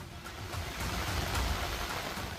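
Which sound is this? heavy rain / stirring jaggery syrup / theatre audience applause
heavy rain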